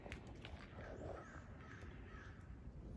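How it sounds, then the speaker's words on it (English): Crows cawing outdoors among other birds, a few hoarse calls scattered over a steady low rumble of background noise, fairly faint and distant. "hear the birds"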